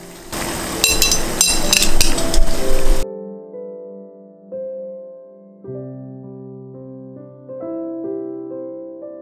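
Dishes clink briefly as a plate of tofu pouches wrapped with burdock root is lifted out of a steamer, a short burst of kitchen clatter before quiet music takes over.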